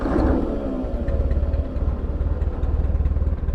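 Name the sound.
Ford 9N tractor engine starting and idling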